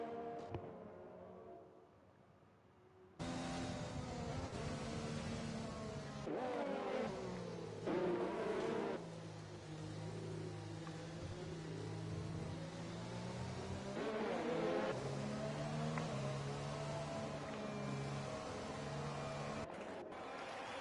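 F1 2020 racing cars drive around the Canada circuit during a safety car period, making a loud, continuous engine drone. It cuts in abruptly after a quiet opening and holds steady, with shifting pitch as the cars pass.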